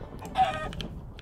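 A short burst of chicken clucking in the video game Minecraft, one brief cluck amid faint background sounds.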